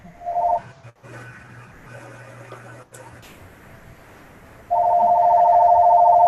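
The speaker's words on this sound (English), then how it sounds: "Is that your phone ringing?" A house phone rings in loud, steady electronic trills, one short burst at the start and a sustained ring at the end, with a quiet stretch and background voices between.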